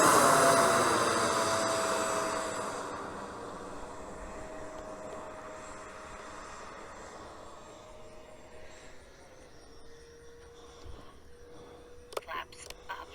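A Freewing Cougar RC model jet flies past, its loud ducted-fan whine fading steadily into a distant, thin tone, with faint handling clicks and light voices near the end.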